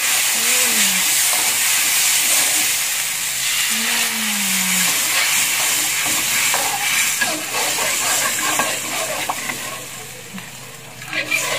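Water poured a little at a time into a hot frying pan while making Betawi vegetable asinan, giving a steady loud hiss of sizzle and steam throughout, with stirring clatter and faint voices in the background.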